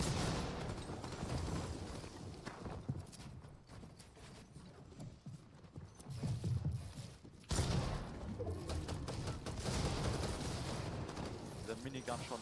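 Minigun fire in a competitive solo cash cup Fortnite match, rattling in dense bursts under and between excited commentary from streamers.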